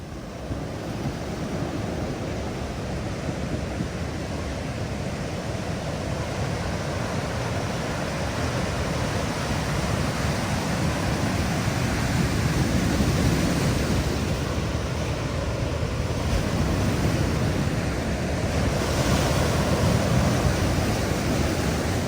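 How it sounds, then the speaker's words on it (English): Ocean waves wash up a boulder beach near Ensenada, Baja California, in a steady, loud roar of surf with a faint light breeze and no voices. "And those waves roll up on the beach and you hear those boulders."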